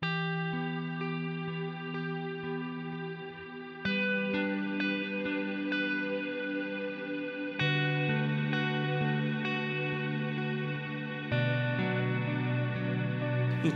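Sustained chords with a long reverb decay wash together as each new chord enters every few seconds, the tails blending into a dense, ringing ambience with no speech.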